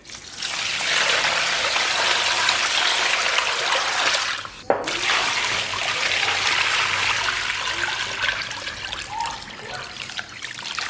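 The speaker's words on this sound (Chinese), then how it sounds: "然后给里边稍微来点水" Water trickles into a pot of pig trotters in a steady, close pour, broken once by a brief knock.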